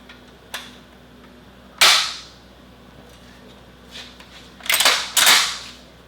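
An AGS-17 automatic grenade launcher fires during a Canadian Forces crew drill, giving sharp cracking reports: one, then a louder single shot, then a quick rapid pair, at moderate distance over a quiet background.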